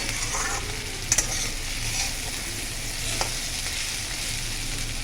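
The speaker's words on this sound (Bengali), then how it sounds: "এখানে গাজর, বিনস, আলু, ক্যাপসিকাম, পেঁয়াজ সব ভালো করে ভেজে নিচ্ছি" Chopped carrots, beans, potato, capsicum and onion frying together in a pan for hakka noodles, a steady close sizzle throughout with a couple of brief utensil clinks.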